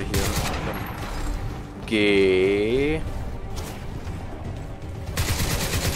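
Rapid bursts of gunfire in the video game Crysis 2 rattle at the start and end, broken in the middle by a loud whirring electronic tone that wavers in pitch.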